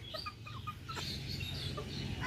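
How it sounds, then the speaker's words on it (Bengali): Chickens clucking softly while being fed, a few short scattered clucks over a low steady background hum, with a brief louder noise at the very end. "দেখো বন্ধুরা মুরগিকে খেতে দিচ্ছে"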